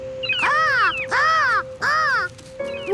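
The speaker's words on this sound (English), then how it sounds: "Yeah, seagulls." Seagull cries in a Curious George kids' cartoon: three loud, harmonic, swooping calls in steady succession, followed by a shorter fainter call, set against a constant background tone with no talking.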